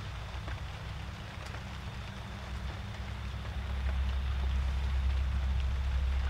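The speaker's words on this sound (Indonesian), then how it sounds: "Ini hujannya masih deras banget" Heavy rain falls steadily around a hut as a dense, continuous roar that swells louder partway through, with no voices.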